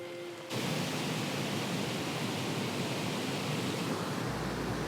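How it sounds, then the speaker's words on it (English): A steady, broad roar of rushing water from waterfalls on Achray Water, heard from some distance, constant and unbroken with no voices. "there's some waterfalls not too far from here. You can actually hear them from here"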